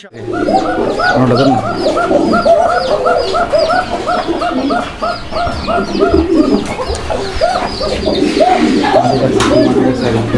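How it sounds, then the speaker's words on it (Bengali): Male and female pet pigeons coo together up close, their rolling, repeated throaty calls overlapping in a steady stream, with faint human voices underneath. "দুইটা কবুতরে কিন্তু আলহামদুলিল্লাহ অনেক চমৎকার আর মিষ্টি সুরে ডাক দিচ্ছে"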